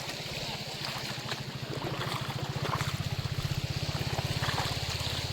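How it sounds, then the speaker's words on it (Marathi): A small village river, swollen after heavy monsoon rain, flows with a constant rushing, burbling wash. A steady low rhythmic thumping runs beneath it in the second half. "ही वाहणारी नदी आणि याच्यातून झुळझुळ वाहणारं पाणी पाण्याचा खळखळणारा आवाज"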